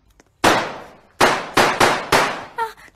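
Fireworks in a video game go off as five sharp, loud explosive bangs, each decaying quickly, spaced unevenly over a few seconds and ending with a brief ringing chime.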